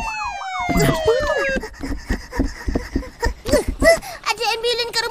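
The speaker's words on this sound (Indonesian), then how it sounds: "Ada ambulans ke rumah tu." A cartoon ambulance siren wails with sweeping up-and-down tones at the start, then gives way to lively cartoon voices talking, with a short bright electronic jingle near the end.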